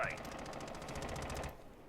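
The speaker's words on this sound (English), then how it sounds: "I'm hearing some gunfire, which sounds like it's coming from the north." Rapid automatic gunfire in Rainbow Six Siege, a steady burst of evenly spaced shots lasting over a second before cutting off abruptly.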